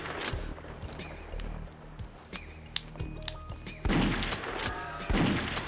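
Rapid gunfire from a first-person shooter, Alien Trilogy on PS1, as shots hit barrels: repeated sharp bursts and impacts over game ambience, with louder crackling volleys near the end.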